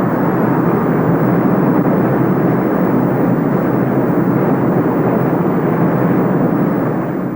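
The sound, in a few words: United States Air Force KC-10 tanker aircraft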